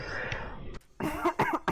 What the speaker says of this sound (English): Really, I don't mean to be so loud when I cough.